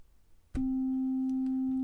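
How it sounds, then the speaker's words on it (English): Synthesizer oscillator playing a triangle wave: after a brief quiet moment, a steady, loud, pure-sounding electronic tone switches on and holds at a constant pitch, close and unaccompanied by speech. "is what they call a triangle wave"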